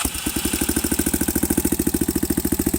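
Yamaha XT225 motorcycle engine idling with the DB killer removed, giving a loud, close, even thumping exhaust beat of rapid regular pulses that runs steadily and alone.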